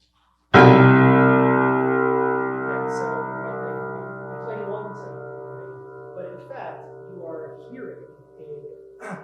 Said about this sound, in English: So if I just play one low tone on the piano